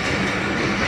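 The Thal Express rolls through at night near Namal railway station, a loud, continuous close rumble of wheels and carriages with no voices.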